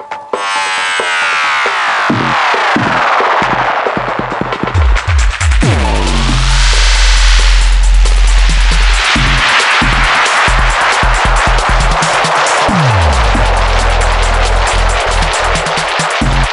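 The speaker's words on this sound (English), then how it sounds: "So the spiral is like a tape delay that's gone bananas" A loud, swirling spiral tape-delay effect on a Pioneer DJM-900nexus mixer, with repeating echoes that sweep up and down in pitch over a thumping beat, growing chaotic and dense.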